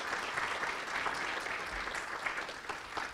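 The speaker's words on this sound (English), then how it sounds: "Let's give them a round of applause." Brief burst of steady applause from an audience at a leadership academy closing ceremony, clapping for city staff, a dense even patter of hands at moderate distance with no talk over it.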